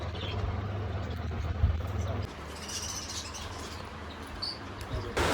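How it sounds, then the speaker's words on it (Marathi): Pet sparrows chirp faintly in short, scattered tweets over a low background hum. "माझ्या चिमण्यांचा पण आवाज येत आहे"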